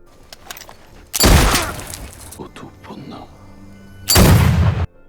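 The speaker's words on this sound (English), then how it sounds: "Connor guns him down in front of the entire crew" Gunfire rings out in a pirate film scene as two heavy, booming blasts with long echoing tails, separated by a few quieter seconds.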